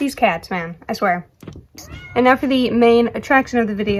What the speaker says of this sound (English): I'm sorry if you can hear my cat meowing.